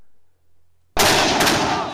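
A police dispersion hand grenade, thrown on a high arc, goes off with one sudden loud blast after near silence, then a long crackling roar as it fades.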